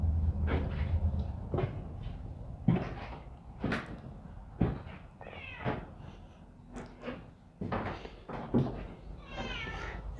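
A cat meows repeatedly at close range in a guesthouse room in Senekal, Free State, with several short, uneven calls over quiet background and light knocks between them.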